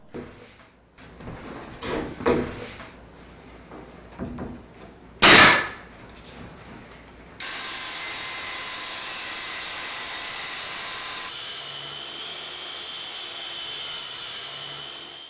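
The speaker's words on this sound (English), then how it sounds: "we're going to take this over to the saw and rip it down" A table saw rips door casing lengthwise, a loud steady whine that runs about eight seconds after some brief handling knocks and a short sharp burst, then settles slightly quieter as the cut finishes.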